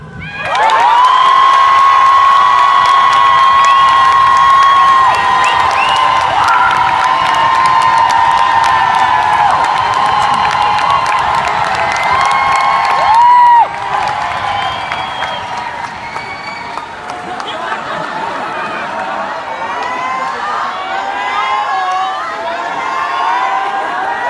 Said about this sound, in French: je vous invite à crier de toutes vos forces